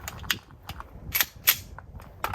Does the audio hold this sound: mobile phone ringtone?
no